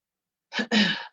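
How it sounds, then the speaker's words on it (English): A single close, loud sneeze: a short sharp intake and then the main explosive burst, with silence before and after. "Every time I start doing this video, my mother sneezes."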